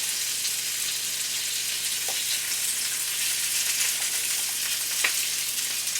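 Onions and peppers fry in a pan alongside kielbasa sausage, a steady close sizzling hiss with a couple of faint clicks of stirring.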